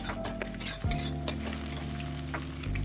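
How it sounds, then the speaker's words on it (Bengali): Four eggs sizzle and fry in a wok-style pan for egg fried rice, a steady crackling hiss broken by scraping stirs of a metal spatula, close and fairly loud, with no talk. "তো 4টে ডিম দিয়ে এইভাবে ভেজে নিতে হবে।"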